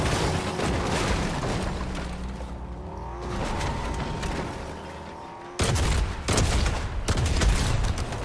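Rapid bursts of gunfire and booms in the Fortnite video game, loud and dense, with a quieter stretch midway before heavy firing resumes, no talking.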